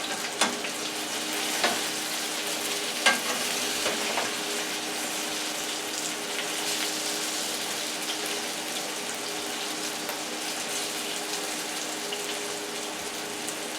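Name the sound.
home fries frying and being turned in a pan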